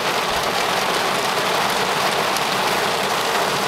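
Heavy rain pours steadily during a storm, a loud, even hiss of water drumming on surfaces with no letup.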